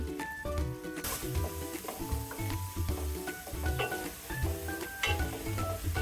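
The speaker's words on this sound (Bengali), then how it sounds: "এবার এক টেবিল চামচ পরিমাণ আদা রসুন বাটা দিয়ে দিলাম" Ginger garlic paste fries in a pan with cashews and raisins for vegetable pulao, a close sizzling hiss with stirring scrapes and soft knocks repeating throughout, with no talking.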